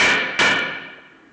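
A hammer strikes twice in quick succession to knock a brake rotor off a 2013 Hyundai Santa Fe, each blow a sharp metallic clang that rings out and slowly fades, close up.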